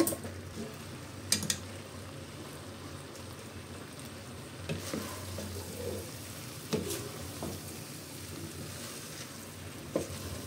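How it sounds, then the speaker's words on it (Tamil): Rice being gently folded with tamarind masala in a pan gives a soft frying hiss and muffled stirring, with a few clear clinks of a spoon on metal spread across the stretch, heard alone. "ரொம்ப போட்டு கிண்டி சாதத்தெல்லாம் உடைக்காமல் அப்படியே போலாக கலந்து விடுங்க"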